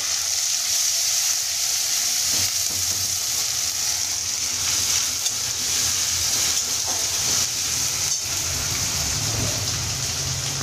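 Spice paste hitting hot oil already tempered with panch phoron, a strong continuous hiss and crackle, close and steady with light stirring noises throughout.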